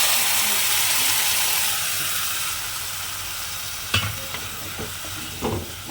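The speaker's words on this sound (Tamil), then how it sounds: "இந்த மாதிரி வெங்காயம் வணங்கின உடனே நம்ம அரைச்சி வச்சுருக்கிற தேங்காய் மசாலாலாம் ஊற்றிக்கலாம்" Ground coconut masala poured into onions frying in a pan for a milk shark stir-fry, a steady close sizzle with stirring scrapes, then sharper bursts of spattering as the wet paste hits the hot oil.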